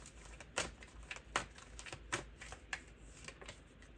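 Tarot cards are shuffled and drawn in faint, nearby bursts of riffling and soft slaps, several quick flicks and snaps spaced irregularly, with no voices over them.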